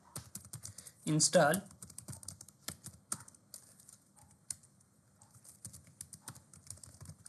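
Someone types a command on a computer keyboard in a Kali Linux terminal, a loud burst of quick clicks around one second in, then sparse lighter taps under quiet talk.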